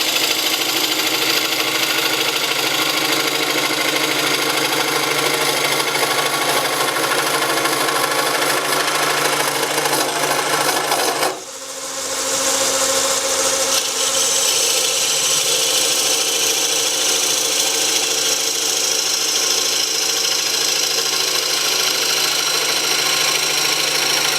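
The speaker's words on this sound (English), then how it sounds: "Scraper cuts cleaner than a Forstner bit anyway." A lathe scraper cutting a small cherry wood box, a loud, steady grinding whir of the spinning lathe that drops out briefly midway, then resumes with a brighter, higher scraping tone.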